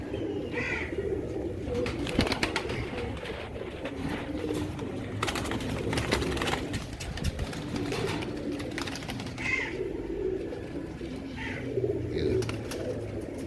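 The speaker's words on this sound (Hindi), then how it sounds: "ये कांटो वाला कबूतर" Soft, repeated throaty cooing of several Teddy pigeons close by, overlapping low calls amid rustling and scattered fluttering, with no talking.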